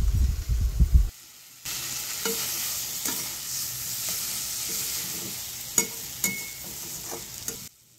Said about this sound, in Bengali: ভালো করে এবার মশলাটাকে কষিয়ে নেওয়া হচ্ছে।